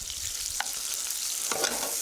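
Julienned red bell pepper frying in rendering fat in a pan gives a steady, close sizzle throughout, with a couple of brief stirring scrapes over the hiss.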